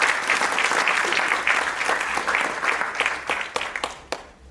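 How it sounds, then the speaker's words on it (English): An audience at a townhall applauds loudly and steadily, a crowd of clapping hands that carries on for several seconds before tapering off with a few final claps. "So again, round of applause."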